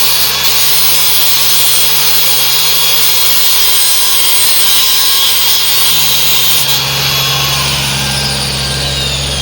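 Makita grinder cutting through scrapped, probably galvanized RV steel, a loud continuous abrasive whine and grind that holds steady with a drop in pitch and a heavier low hum entering near the end.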